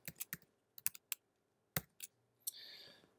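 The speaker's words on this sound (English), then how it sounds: "I'll just type it and I'll explain it." Typing on a computer keyboard while writing Python code, a few sharp close clicks in an irregular rhythm, then a brief softer rattle at the end, faint and alone.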